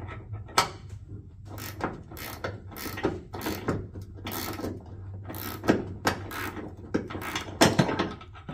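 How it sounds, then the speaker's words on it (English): A hand ratchet clicks in quick repeated bursts while tightening the bottom nut on a hood ditch light bracket on a 5th gen Toyota 4Runner, each burst sharp and close, with short pauses between strokes. "then tighten the nut on the bottom"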